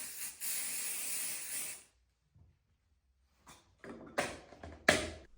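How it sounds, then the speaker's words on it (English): Silicone spray hisses onto a towel in a sustained burst of nearly two seconds, followed by quiet and then several short rustling, wiping sounds close by. "You spray the silicone on a towel and then wipe the towel."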